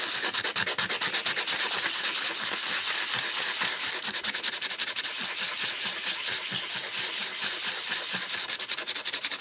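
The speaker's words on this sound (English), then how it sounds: "I'm simply going to do it the hard way by hand with some sandpaper" Coarse 80-grit sandpaper rubbed by hand over surface rust on an Apple IIe Platinum case, a steady loud rasping scrape in fast back-and-forth strokes that continues without a break and with no talking.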